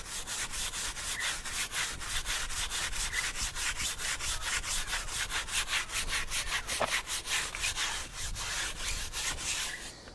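A wet brush scrubs tyre cleaner into a car tyre in quick, regular back-and-forth strokes, a close, rhythmic bristly scratching that continues steadily without pause.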